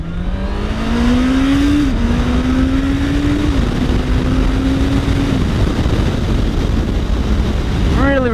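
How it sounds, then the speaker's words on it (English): Honda CBR650R motorcycle with its stock Euro 5 exhaust, engine droning steadily as it rides through several smooth gear changes, each marked by a brief dip in pitch, ending with a short rev while a rider talks over it. "Out of the box, it's pretty quiet stock, obviously, because it's got the new Euro 5 compliant exhaust"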